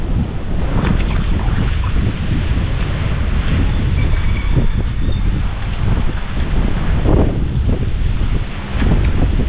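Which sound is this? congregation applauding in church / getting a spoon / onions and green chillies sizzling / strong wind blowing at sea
strong wind blowing at sea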